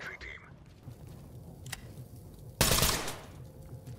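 A short, loud burst of gunfire in the tactical shooter Ready or Not cuts in near the end, over a low, murmuring background with faint voices talking.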